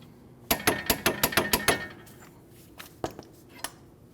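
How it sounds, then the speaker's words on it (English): A torque wrench's ratchet clicks quickly about eight times in a tight burst while the CV axle nut on a 2012-2016 Honda CR-V 2.4L is tightened, followed by a few scattered metallic clicks and taps, close by. "Now you can just torque your nut."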